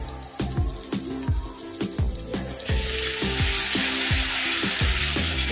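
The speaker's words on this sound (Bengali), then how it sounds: "আমি এবার দেবো আদা রসুনের পেস্ট।" Ginger-garlic paste hits hot oil in a pan that already holds fried onions, for a crab malai curry. The sizzle swells into a steady loud hiss, and a spoon scrapes and taps against the pan in a regular rhythm.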